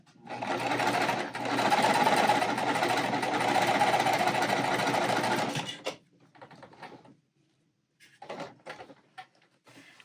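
A sewing machine runs in a steady, rapid stitching burst for several seconds while attaching a yellow fabric square to a quilt block, then stops, followed by a few short, quieter stitching bursts and handling sounds.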